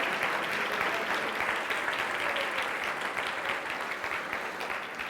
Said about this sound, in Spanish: Y le da un fuerte aplauso al Señor, aleluya.